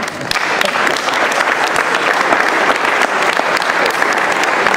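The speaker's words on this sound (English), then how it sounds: "And absolutely, that deserves a round of applause." Loud, sustained applause from an audience at a 2011 high school athletic banquet, dense steady clapping filling the whole stretch without talk.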